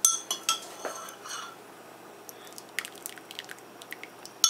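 A spoon stirring hot matcha green tea in a cup, with a few clinks near the start, then a run of quick, light taps and clinks close by.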